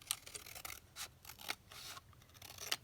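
Scissors fussy-cut small paper craft pieces, a series of close, crisp snips and slides in quick uneven rhythm.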